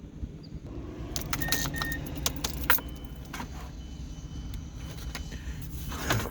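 Keys jangle and clink in short bursts while being pulled from the roof box of a 10+ year old Mazda5 minivan, with a low steady rumble underneath.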